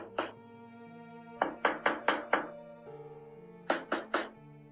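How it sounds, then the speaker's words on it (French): Heavy, dull knocks strike a front door at night, coming in groups of two, five and three thuds, loud and near over a low humming background. "des coups sourds retentissent contre la porte d'entrée"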